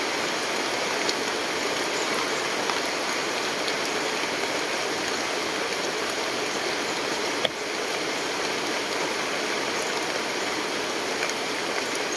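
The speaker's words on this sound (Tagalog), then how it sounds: "yung inabot mo tayo ng ulan" Steady rain falls in a constant, even hiss with no letup, loud and close, with no voices.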